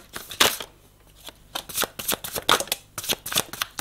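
Tarot cards being shuffled, a series of crisp papery riffles and slaps in an irregular rhythm, close and alone with no talk.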